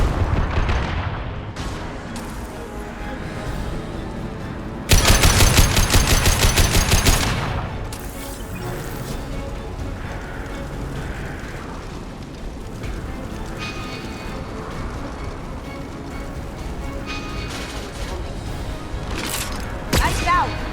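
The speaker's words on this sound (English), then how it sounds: "Firing an impact shot." Burst of automatic weapon fire from an impact shot in Mass Effect 2, a dense loud volley of shots lasting a couple of seconds amid ongoing combat noise, with someone talking over the game.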